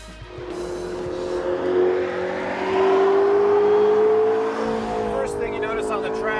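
A 2013 McLaren MP4-12C Spider convertible supercar revs hard toward its 8,500 RPM redline at a racing circuit in southern Spain, a loud, close engine note climbing steadily in pitch, then easing off, with a voice talking over it.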